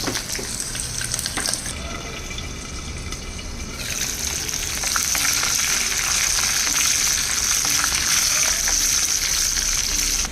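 Curry leaves and slit green chilies hit hot tempering oil for a bottle gourd chutney, a dense steady sizzle that swells louder midway and keeps crackling close up with no voices.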